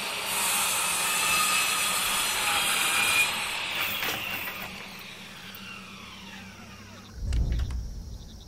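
An angle grinder cutting in the horror video game Father's Day, a loud sustained high whine over several seconds that breaks off, followed by a brief low thud.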